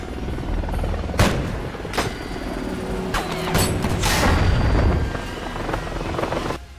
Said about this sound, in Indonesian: Dan akhirnya Swigger berhasil menembak jatuh heli tersebut.